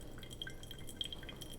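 Pour-over coffee drips softly during brewing, a handful of faint, quick droplet plinks over a quiet background.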